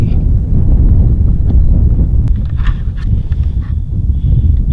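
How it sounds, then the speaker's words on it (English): Strong wind buffeting a microphone outdoors on a Wyoming mule deer bowhunt, a loud, constant low rumble with faint rustles and clicks over it. "Gosh, it's windy."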